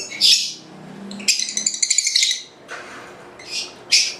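Bright, close bird chirps in short bursts, with a quick run of rapid tweets in the middle and a few sharper calls near the end.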